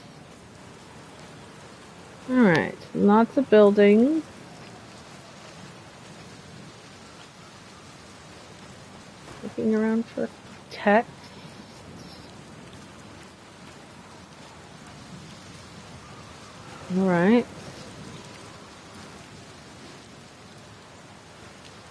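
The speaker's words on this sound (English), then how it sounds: "keep an ear out for the storm getting intense" Steady rainstorm ambience in the video game Outer Wilds, a continuous even hiss of falling rain with no distinct thunderclaps, running throughout at moderate level while someone speaks briefly three times over it.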